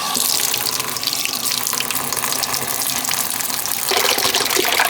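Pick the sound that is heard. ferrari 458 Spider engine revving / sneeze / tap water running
tap water running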